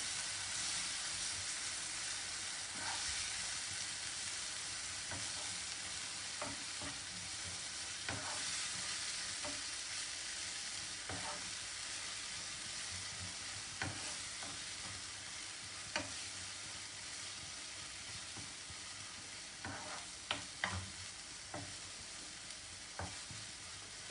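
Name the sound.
tomatoes added to garlic, frying and sizzling while stirred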